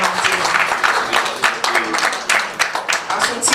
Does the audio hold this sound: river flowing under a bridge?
no